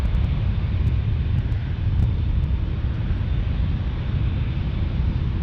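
An airplane at San Diego airport roars steadily, a loud, broad, continuous engine rumble with no break and no talk.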